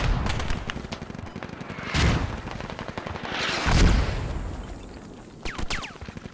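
Gunfire in the tactical shooter Squad, dense rapid rifle and machine-gun shots near and far, with two heavier booming blasts rising above the steady crackle.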